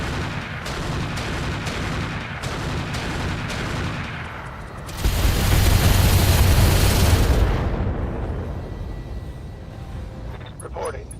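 Missile launcher fire in the MechWarrior video game, a heavy booming salvo that swells loudly mid-clip over constant rumbling game noise, with earlier repeated thuds and a faint voice near the end.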